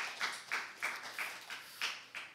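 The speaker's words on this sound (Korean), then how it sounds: "선생님 감사합니다 하고 우리 박수로 선생님에게 감사 표현하겠습니다" A church congregation claps in thanks to its teachers, about eight even, rhythmic claps that sound faint and distant.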